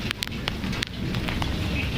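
Rain falling outdoors, a steady close patter with scattered louder drops and splashes, heard alone.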